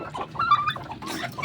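Farm chickens cluck in a few short, close bursts, with soft bird chatter between the calls.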